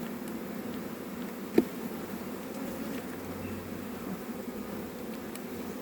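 Steady, low buzzing of many honey bees droning together during a hive inspection, continuous and fairly close, with one brief sharp tap partway through.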